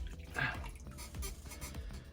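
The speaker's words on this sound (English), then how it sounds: "Gonna put some water on it." Water splashes and trickles briefly onto a safety razor at a sink, a soft close wet patter that fades over a couple of seconds.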